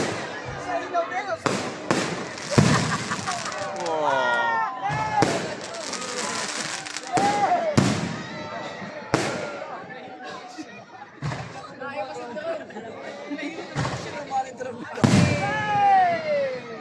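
Christmas fireworks display in Sto. Tomas, Batangas, with repeated sharp bursts and crackling explosions scattered throughout, some loud and near, while people talk and whistle-like rising tones sound between the bangs.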